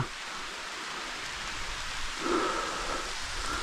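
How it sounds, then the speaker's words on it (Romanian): Rain falling outdoors beside the Prut river, a soft, steady hiss of drops with a faint brighter patter midway, fairly quiet and alone without talk. "Uitați cum plouă"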